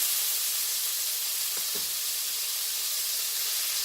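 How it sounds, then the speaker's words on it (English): Beef sizzles in a hot wok for a beef and broccoli dish, giving a steady, loud frying hiss throughout, with a couple of faint clinks partway through. "because the wok, it gets hot really fast, so that's a good thing. So I'll just add in my beef here."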